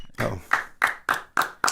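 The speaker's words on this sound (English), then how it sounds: "Clap." Hand clapping: six sharp, evenly spaced claps at a steady rhythm, close and clear, with a voice briefly audible at the start.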